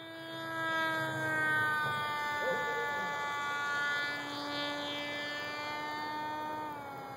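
Techone Teksmo Popwing RC plane with an 800 W motor idling in flight, a steady high-pitched electric whine with slowly shifting harmonics that holds fairly loud throughout, with faint talk in the background.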